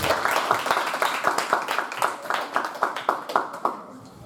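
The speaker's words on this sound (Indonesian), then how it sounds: "Beri tepuk tangan sekali lagi untuk Kak Florence." Audience at a book launch poetry reading clapping together in a close, rhythmic burst of hand claps that gradually fades toward the end.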